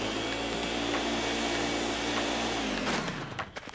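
Poltergeist 3000 ghost vacuum whirring in Luigi's Mansion: a steady, loud motor whine with a droning hum that runs for nearly three seconds, then winds down and sputters out with a few clicks, no talk.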